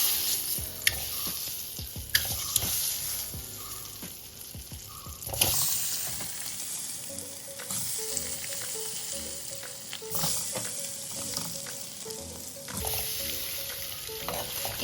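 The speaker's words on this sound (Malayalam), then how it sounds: "അപ്പം നമുക്ക് ഇനി ഇതിലേക്ക് മുട്ട ഇട്ട് കൊടുക്കാം." Loud continuous sizzling and frying of quail eggs in hot masala in a pan, with stirring scrapes and clinks, close and steady throughout, no talking.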